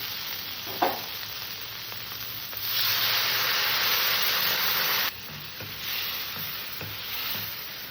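Water poured into a pan of potato and poppy-seed curry, a sudden loud sizzle and steamy hiss that rises, breaks off, then continues more softly, with a few utensil knocks.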